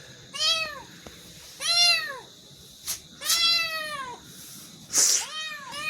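A cat at a farmhouse meows four times, long drawn-out calls spaced about a second apart, close and clear.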